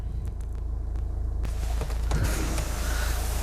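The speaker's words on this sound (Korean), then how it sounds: "시동 한번 걸어보도록 할게요." A 2013 Hyundai Santa Fe DM 2.0 2WD engine starts by push button, quiet cabin hum and a few clicks giving way to a broad, steady rumble of the engine settling into idle.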